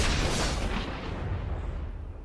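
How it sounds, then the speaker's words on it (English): A deep explosion sound effect used as a transition in a podcast, a loud broadband boom that opens at full force and then rumbles and decays over about two seconds with no voices. "coming out of the really positive commercial to an explosion that says main phase"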